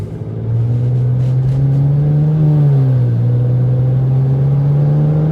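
A modded, tuned 2008 BMW 335i E90 with a prior overheating warning pulls away on its first drive, a steady loud engine drone whose pitch climbs, dips briefly, then rises again as revs build, heard from inside the car.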